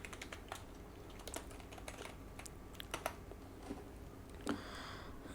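Code is typed on a computer keyboard in quick, irregular bursts of light clicking keystrokes, close and quiet, with no talk.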